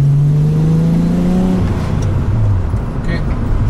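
A VR6 car engine revved as gas is applied, its loud close drone sweeping up in pitch, then easing back down and settling as the revs fall.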